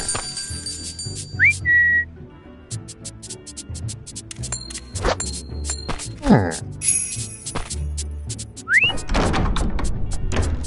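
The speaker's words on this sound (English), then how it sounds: "Give Max a whistle." A short rising whistle calls the dog Max in The Grinch video game, heard twice among clunks, jingles and door thuds in a busy game soundscape, with talking in the scene.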